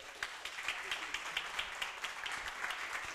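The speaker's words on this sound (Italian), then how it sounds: "Un applauso per favore." Faint, distant applause from an audience at a wedding film awards ceremony, a steady patter of claps held at low volume across a few seconds.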